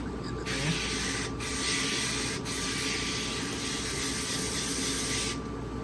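A grill brick scraping a flat top grill and drawing oil toward the grease trap, a continuous gritty rasping scrape with a few brief pauses between strokes.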